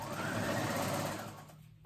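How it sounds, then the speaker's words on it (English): A sewing machine topstitching a dress at an eighth of an inch, a close, steady rapid whir that holds for over a second and then slows and fades out. "we're gonna go ahead and top stitch at 1/8 of an inch all the way around"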